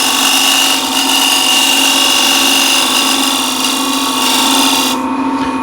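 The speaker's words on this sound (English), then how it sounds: "I grabbed 1/2 inch square end scraper." A 1/2 inch square end scraper rasps continuously against spinning wood on a lathe, a loud, steady scraping hiss up close that cuts off near the end.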